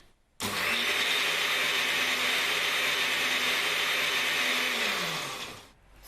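A blender whizzes vegan ingredients until smooth and creamy, starting abruptly into a loud, steady high-pitched whir that holds for about five seconds before winding down and stopping.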